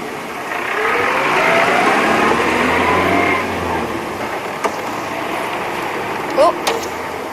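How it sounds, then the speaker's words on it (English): A car engine hums steadily nearby, swelling and then fading as the vehicle passes, with outdoor ambience and a few faint bird calls afterward. "Let me just let this, maybe just this car go past"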